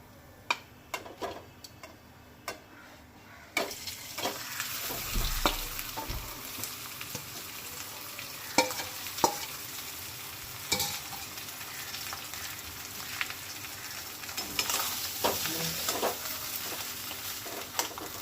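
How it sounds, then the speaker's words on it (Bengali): Mashed potato stirred in hot oil with whole cumin, giving a continuous close sizzle broken by frequent scraping and clicking strokes of a spatula against the pan. "আলুটা এবার তেলের মধ্যে খুব ভালোভাবে কিন্তু নেড়ে নিতে হবে।"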